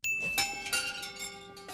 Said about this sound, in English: Why does Jabba have wind chimes in a place where there is rarely wind?